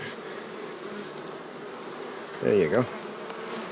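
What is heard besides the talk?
honey bees buzzing in hive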